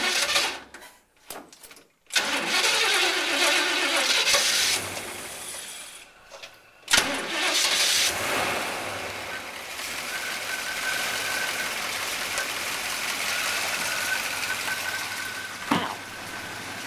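A car engine cranks, starts and settles into a steady idle after its alternator belt is tightened, with brief gaps early on before the even running hum continues.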